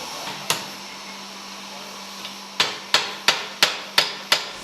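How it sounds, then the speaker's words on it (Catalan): Hammer blows ring out on iron at an anvil in a forge, one early strike followed after a pause by six evenly spaced sharp impacts, close and loud over a low steady hum. "Estem treballant a la fornal, estem treballant a l'enclusa, amb els martells, les tenalles"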